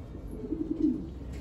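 A breeding pigeon of a Belgian racing line, paired with a proven male, gives a soft low cooing, a few murmured pulses rising near the middle of the short stretch and fading, close by with no talk.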